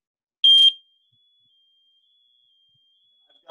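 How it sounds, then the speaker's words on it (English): A single short, shrill electronic beep from a smoke alarm being tested with its test button, followed by a faint lingering tone and near silence. "I can push the test button."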